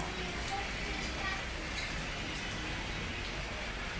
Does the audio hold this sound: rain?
yes